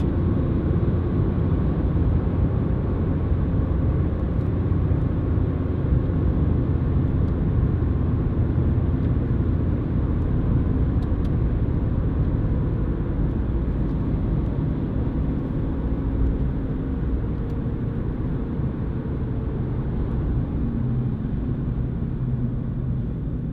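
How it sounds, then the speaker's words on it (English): Steady road and tyre roar fills the bare cargo area of a Ford Fiesta 1.4 TDCi panel van on the move, a constant low rumbling drone with no gaps and no voices. "you do get a little bit more tyre noise coming through"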